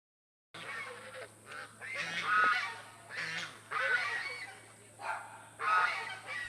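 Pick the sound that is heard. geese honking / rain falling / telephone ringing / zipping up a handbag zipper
geese honking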